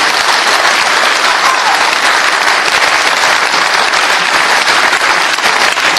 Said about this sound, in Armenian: Ծափահարություններ մեր Գյումրիին